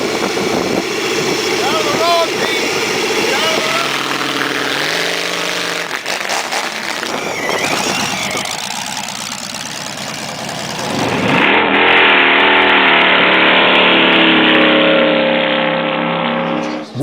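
A motorcycle powered by a 7-cylinder, 110-horsepower radial aircraft engine runs loud and close, its steady rumble swelling and revving across the clip as a voice talks over it.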